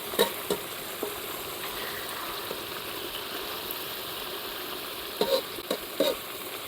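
Coconut milk frying in a pan for Lao-style chu chee curry with climbing perch, a quiet steady sizzle with a few faint clicks and scrapes of a utensil near the start and end.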